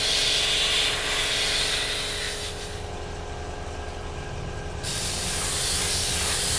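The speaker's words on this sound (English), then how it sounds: "we just sprayed the underside with the light colour, the pale grey blue" A steady airbrush hiss sprays pale grey-blue paint onto the underside of a 1/48 Eduard FW-190 A5 model, loud and continuous, dipping softer through the middle before resuming at full strength, with no talking.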